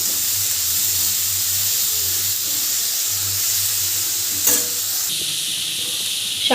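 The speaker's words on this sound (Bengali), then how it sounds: "শাকটা কিন্তু 2 মিনিট মতো আমি খুব ভালো করে ভেজে নিয়েছি" Pumpkin greens fry in a hot pan with a steady, loud sizzle and hiss throughout, broken by a couple of short scraping stirs near the end.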